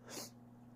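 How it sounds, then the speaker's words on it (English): A single quick, soft sneeze heard alone, brief and fairly faint over a low steady hum. "I hate it when a sneeze, like, tries to sneak up on me"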